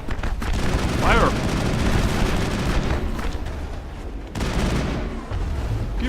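A Mass Effect battle rages with continuous rapid gunfire and dull booms layered into a dense, loud wall of noise, and a brief voice cuts in over the shooting.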